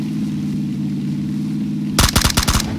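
Gunfire in PUBG, a quick rapid burst of about half a dozen sharp, loud shots arriving after a steady vehicle engine hum.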